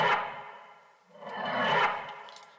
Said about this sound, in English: so I can render that as like my own riser